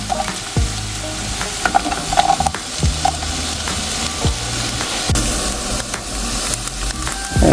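Onions and garlic sizzle in a pan while being stirred. A close, steady frying hiss runs under periodic scraping and knocking of a utensil against the pan, with no talk.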